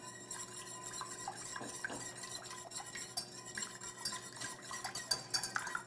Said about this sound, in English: I'm just going to use a whisk and heat.